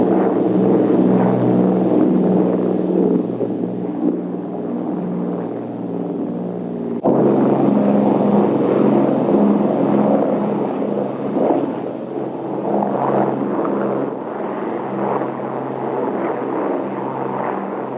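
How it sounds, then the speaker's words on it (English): Four Rolls-Royce Merlin engines of a WWII bomber running together, a loud, steady droning roar with a deep throb, slight surges and a brief dip midway, no voices. "But once you had them synchronized, they just purred. Music to the ears. The sound of 4 Merlins"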